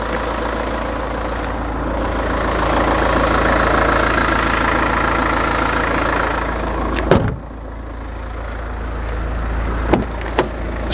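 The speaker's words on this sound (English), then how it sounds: "We'll have a little listen under there while the engine's running." Used Jaguar car idling with the bonnet open, a steady low engine hum and rumble heard up close, broken by a couple of sharp knocks or handling thumps near the end.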